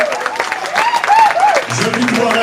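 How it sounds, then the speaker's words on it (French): A theatre audience claps for performers on stage, the applause mixed with a voice and rising whoops, fairly close and lively, with talk continuing over it. "On les applaudit."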